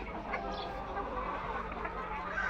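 Tiger breed chickens cluck steadily on a farm, several birds overlapping in a busy, continuous mid-level chorus with no voices.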